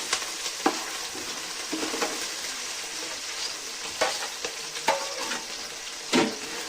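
Ginger garlic paste frying with three bay leaves for a gongura chicken curry, a steady close sizzle with a few sharper stirring scrapes and spatters throughout, no voices.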